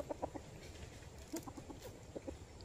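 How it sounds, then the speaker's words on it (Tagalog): A bad-tempered rooster clucks in short, scattered bursts in a farmyard. The calls are faint and a little distant over a low background hum. "masungit yung tandang na yan"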